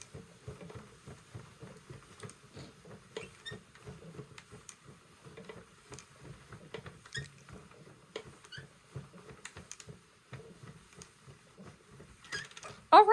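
A knitting machine works rows of a scarf with a quiet, irregular clatter of light ticks and patters at close range, ending in a brief louder clunk.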